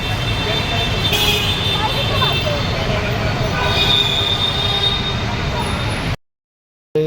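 A train rolls in with loud metallic wheel squeal and rumbling carriages, a continuous close roar lasting about six seconds before cutting off abruptly.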